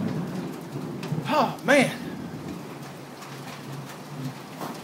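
A hailstorm with rain and thunder outdoors: a constant hiss of falling rain and hail with a low rumble, while a man briefly exclaims over the storm.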